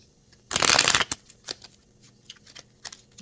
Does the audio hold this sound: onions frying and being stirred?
no